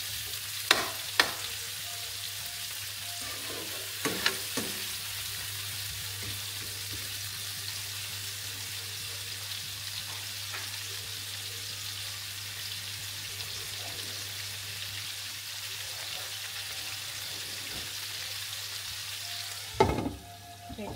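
Whole spices sizzle and crackle softly in a dry pan for a chicken curry, a steady gentle frying hiss with a few louder pops and stirring clatters, close and without speech.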